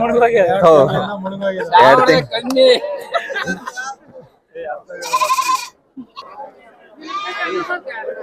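Goats bleat in short, quavering cries near the end at Sira sheep and goat market, following a stretch of people talking nearby.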